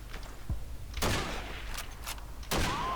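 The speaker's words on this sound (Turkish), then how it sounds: "Şurada bir yerde bana sıkan bir şey var." Gunfire in the World War II shooter Call of Duty 2: scattered distant rifle shots and sharp bursts crack out over a low battlefield rumble, several distinct reports spaced irregularly across a few seconds, with no talk.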